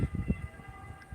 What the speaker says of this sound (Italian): Sta arrivando l'ambulanza e dov'amo?